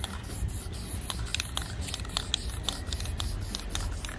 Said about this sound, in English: I'm gonna spray it on both sides.